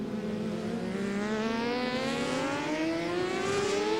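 A 600cc supersport motorcycle at a race, engine whine climbing steadily in pitch as it speeds past the finish line, loud and close for a few seconds.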